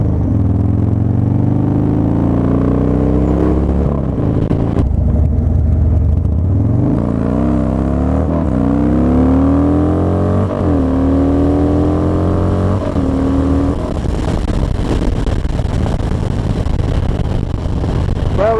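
Motorcycle engine revving hard and continuously while a rider practices wheelies, rising and falling in pitch with loud, close throttle bursts throughout.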